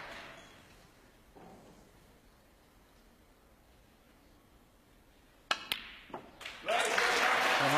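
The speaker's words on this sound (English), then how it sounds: "And he is being cheered on to the rafters." A snooker crowd breaks into applause and cheering after a century break, quiet hall at first, then scattered claps swelling into loud sustained clapping at the end.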